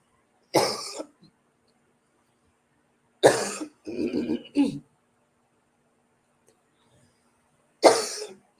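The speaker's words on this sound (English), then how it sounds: "I still got this cough." Three bursts of coughing spaced out over several seconds, the middle one a rough cluster of hacks, close and fairly loud with silence between.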